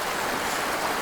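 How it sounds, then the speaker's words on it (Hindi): A stream flows outdoors, a short, steady rushing wash of water, close and even, with no voices over it. "बहता हुआ पानी,"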